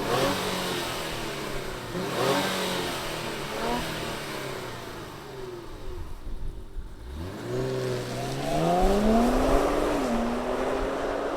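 A 2023 Infiniti Q50 Red Sport 400 sedan fires up and revs, its engine rising and falling through several loud sweeping pulls, dropping briefly to a low idle before climbing into a strong final rev.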